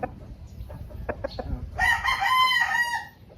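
A Maclean Hatch straight-comb gamecock rooster crows once, a loud, close, drawn-out call following a few short clucks and scuffling sounds.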